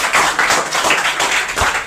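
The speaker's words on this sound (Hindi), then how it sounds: "तालियां दिया जाए इस बात के लिए।" Group of people clapping together in a classroom, a steady burst of hand claps in rhythmic pulses, close and fairly loud, with no talk over it.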